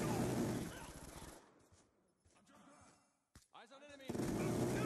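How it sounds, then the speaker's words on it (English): A Death Machine minigun in a shooter game firing in a dense, continuous stream, then cutting out to near silence with faint clicks and a voice before the roaring fire resumes. "Death machine spinning up."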